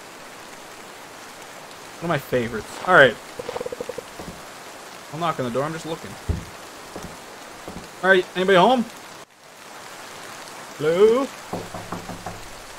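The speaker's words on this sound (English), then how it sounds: "I just kind of want to hang out in here and relax in the rain." Steady rain falling in a horror video game, a soft continuous patter under someone talking and knocking on a door, with a brief dropout near the end.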